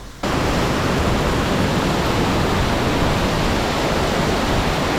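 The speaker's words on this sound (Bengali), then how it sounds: "এই হচ্ছে নিচের অংশ ওয়াটারফল অত বেশি পানি নেই এখন" Waterfall in Meghalaya with low water flow: a broad, steady rush of falling water begins abruptly and holds constant, loud and close, with no voices.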